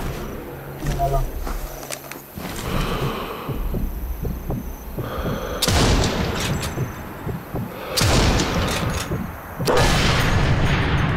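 Explosions in the WWII sniper game Sniper Elite 3, several loud booms with bursts of rumble between footsteps and gunfire, while someone talks over the action.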